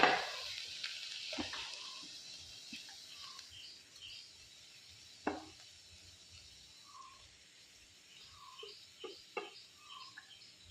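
Hand-crushed coconut paste mixed with turmeric hits a hot pan in a Kerala-style home kitchen, giving a soft, steady sizzle with occasional louder spits and stirring clatter, while birds chirp faintly in the background.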